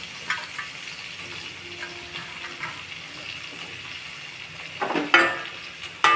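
Soft, steady sizzling of peeled small onions in a pan with occasional stirring clatter, fairly quiet and close, rising briefly near the end.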